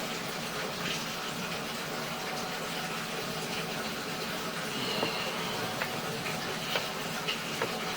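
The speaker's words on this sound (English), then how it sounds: "when the laundry's running, it does fill up this branch line with a decent amount of water" Laundry wastewater rushing through a PVC drain branch line, a continuous steady gush of flowing water with faint ticks and knocks, close and even in level throughout.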